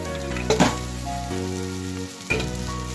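Rice with fried peanuts, salt and turmeric over softened tomato, frying and stirred in a pan, giving a steady close sizzle broken by a couple of louder scraping stirs, with a tonal background hum and no talking.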